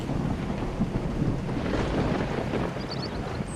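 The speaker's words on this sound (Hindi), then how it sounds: "अभी वो थोड़ा ही दूर गया था कि बारिश तेजी से शुरू हो चुकी थी।" Heavy rain pours steadily amid low, rolling thunder and gusty wind buffeting the microphone, a dense continuous roar of a storm close by.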